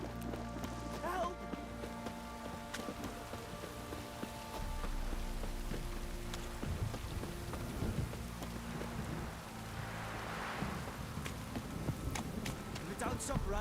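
Steady rainfall in the open world of The Witcher 3: Wild Hunt on PS5, a constant wash of hiss with scattered drops, continuing under music, galloping hooves and people talking.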